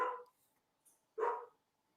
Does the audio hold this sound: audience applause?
no